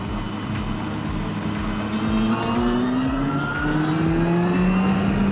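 Motorcycle engine, alongside a rider on a Triumph Scrambler 1200, droning steadily with a rising tone that drops and climbs again through a gear change, over constant wind rush.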